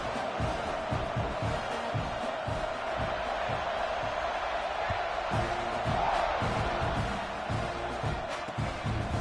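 A large football stadium crowd at a Penn State game roars continuously at kickoff, a dense distant wash of cheering and shouting with scattered whoops and thuds throughout.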